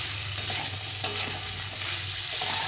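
Chickpeas sauté in a pan for a papaya curry, producing a continuous soft sizzle with a few light scraping stirs, close and steady, no voices.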